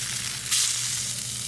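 Fish fillet frying skin-side down in a pan until the skin turns crispy, giving a steady close sizzle with a brief louder burst partway through.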